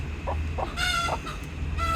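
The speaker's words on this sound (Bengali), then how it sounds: "এই যে মুরগি এই বসে পড়ছে" A hen settling down to brood on her eggs clucks close by in a few short calls, over a steady low background hum.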